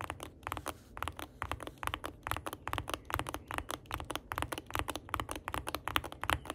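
Fast, steady clacking from typing on a heavy, pre-lubed Yuki Aim Katana mechanical gaming keyboard, with crisp keystrokes following one another closely and alone.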